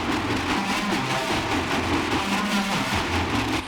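Pitch-shifted lower octave of a synthesizer, wet signal only: a murky, grainy, low-heavy version of the phrase with smeared, wobbly pitch, heard steadily with no talking.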